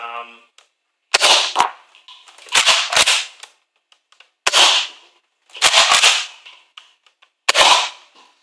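Mega Magnus airsoft AR rifle firing in five loud, close bursts of sharp snapping shots, each burst lasting about half a second with short silent gaps between.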